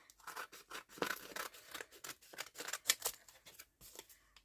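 Scissors cut paper around a shape for a junk journal, with close, quiet, irregular snips and rustles in a steady rhythm of short crisp bursts.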